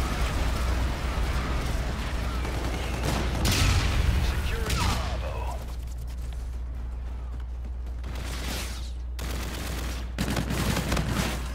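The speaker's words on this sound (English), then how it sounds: "Oh, what was that? The grenade launcher." Grenade launcher fire and gunfire crackle through a Call of Duty: Infinite Warfare multiplayer match. Several sharp bursts and thuds sound at mid distance over a steady low hum, with game chatter and a player's talk mixed in.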